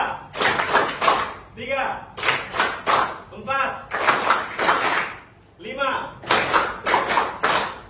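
A class claps hands together in bursts of sharp, loud, near claps, grouped in rhythmic counted sets with short pauses between them.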